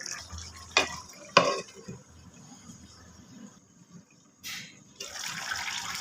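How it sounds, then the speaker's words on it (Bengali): Fish and bottle gourd curry cooks in a lidded pot. Sharp metallic clinks of utensil and pot come first, followed by soft watery stirring and a low simmering hiss up close. "মাছ দিয়ে দিয়েছি, এখন আবার ঢাকনা দিয়ে ঢেকে আর কিছু সময় রান্না করে নিব।"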